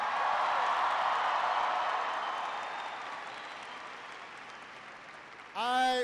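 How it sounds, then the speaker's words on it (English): A large audience at a political speech in Boise, Idaho applauds loudly, a dense wash of clapping that slowly fades before a voice begins at the end. "Can everybody please give Camille a big round of applause for that introduction?"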